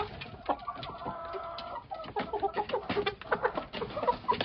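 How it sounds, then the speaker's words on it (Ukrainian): Roosters in a small home flock cluck and call busily while being fed, giving a rising, chattering run of clucks close by amid rustling and scratching. "От і півні хочуть."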